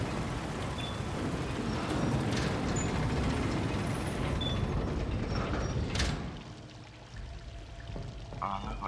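A valve mechanism is turned in the Vampyr video game: loud gushing water pours steadily, then cuts off abruptly with a clunk, leaving a quieter trickle.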